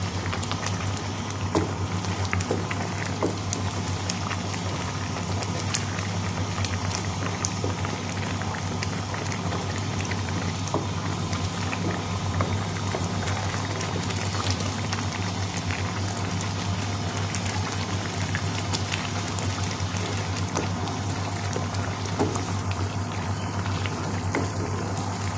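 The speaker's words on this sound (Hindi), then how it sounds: "हम इसे तेज़ आंच पे पकाएंगे। अब तेज़ आंच पे पकाते जाएंगे।" A milk and paneer mixture for burfi cooks over high heat, giving a steady dense bubbling and crackling sizzle with a low constant hum, close and unbroken for the whole stretch with no talking.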